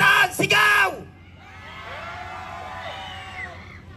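A youth crowd at an anti-corruption protest: one loud shouted call opens, then many voices join in a sustained, overlapping roar of yelling and whooping that holds steady to the end.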